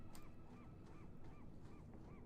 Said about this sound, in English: I also love that we can hear the seagulls going still